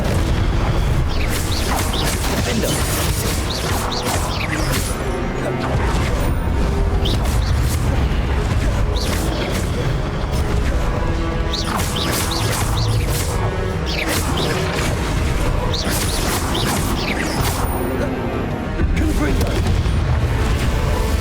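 Spell blasts from the Confringo fire spell in the Hogwarts Legacy game on Switch, repeated booming impacts and crashes over a dense, continuous, loud bed of combat effects and music lasting throughout.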